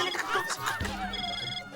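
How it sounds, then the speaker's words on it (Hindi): A phone rings with a bright, warbling ringtone that repeats in bursts, close and fairly loud indoors in a home, with a voice briefly mixed in. "रोशन का फोन है"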